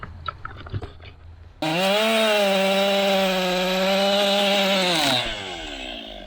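A chainsaw cuts through a tree being felled, the engine roaring at steady full throttle for several seconds after a quieter stretch of scattered knocks and handling noise, then easing off near the end; loud and close, with no talk over it.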